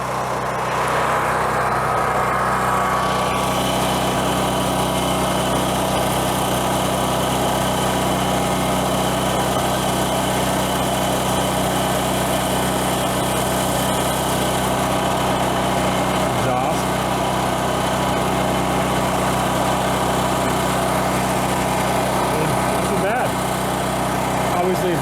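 A Predator 9000-watt portable generator engine runs at a steady, loud drone, an unbroken mechanical hum with no change in pace throughout.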